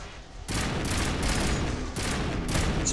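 Heavy automatic gunfire firing explosive rounds in the video game Mass Effect comes in loud, dense bursts of rapid rattling blasts, with a short pause between sustained volleys and no talk.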